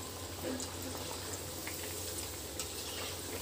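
Sabudana vadas fry in hot oil with a steady, close, continuous sizzle and bubbling crackle that holds at an even level throughout.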